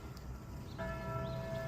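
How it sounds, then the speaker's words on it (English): Church bell ringing at six o'clock near a creek, heard faintly at a distance as a sustained tonal ring entering midway over an outdoor background of water and ambient noise. "6 o'clock bell's ringing."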